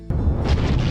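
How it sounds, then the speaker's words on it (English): Explosion in the video game Oxygen: First Breath, a single sudden deep boom that swells into a heavy, rumbling roar lasting under a second. "Oh, we get to watch one explode."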